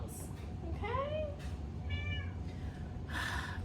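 A cat meows several times close by, short rising and falling cries spread through a few seconds of room tone, with a brief hiss-like burst at the end.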